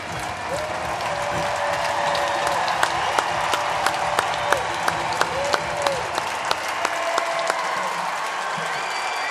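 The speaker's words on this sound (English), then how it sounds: "We got Dodger players applauding." A crowd at Oracle Park, including Dodgers players, applauds steadily with the crowd standing, sharp individual claps standing out above the broad stadium roar and a faint tone running underneath.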